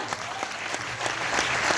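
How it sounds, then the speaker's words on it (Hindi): Steady applause from a crowd at a network marketing seminar, dense clapping that holds throughout and swells slightly toward the end. "सर और मैम के लिए भी एक जोरदार तालियां"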